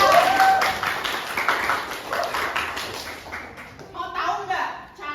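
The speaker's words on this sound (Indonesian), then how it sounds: "tepuk tangan untuk teman kalian" Students in a high school classroom applaud a classmate with a burst of clapping that fades and returns briefly, while a teacher talks.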